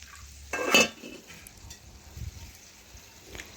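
A bowl of water is poured into a pan of vegetarian moong dal curry with ridge gourd. It makes a short, close splash, followed by faint clinks and quiet.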